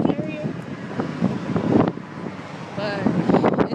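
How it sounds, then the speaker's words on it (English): Outdoor wind buffets the microphone in rough, uneven gusts beside a street, with muffled voices faintly audible beneath the rumble. "It's windy outside, so if I'm yelling, it's because it's windy."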